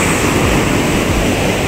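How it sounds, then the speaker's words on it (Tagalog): Strong ocean surf at a beach resort, a loud, continuous roar of crashing waves mixed with heavy wind buffeting, up close. "Hindi mo masyadong ma-appreciate kasi nga sobrang lakas ng alon."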